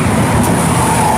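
Bus passing on a Java toll road: a steady, loud broadband roar of a large vehicle rushing close by with road noise, brief and continuous, with no voices.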